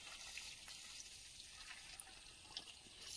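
Water runs steadily from a tap or hose outdoors, a faint continuous hiss and trickle with small splashes and no voices.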